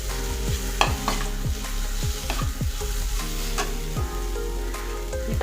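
Cooked vegetables being stirred in a pan, a steady series of spoon-on-metal scrapes and clinks over a continuous sizzle, close and fairly loud with no voices.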